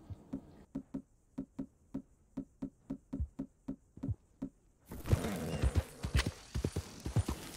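A horse is ridden in Red Dead Redemption 2, its hooves clip-clopping in an even rhythm that quickens into faster, denser hoofbeats over rustling ground noise.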